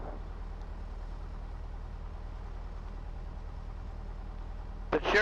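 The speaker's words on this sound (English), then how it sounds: "Airplane is rolling." A Piper Cherokee 140 light airplane's engine drones steadily and low through its takeoff roll, with a brief louder rattle near the end.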